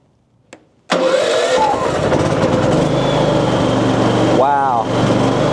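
A portable generator's engine cranks once and fires up, then settles into a loud, steady running drone close by, with a voice briefly heard over it.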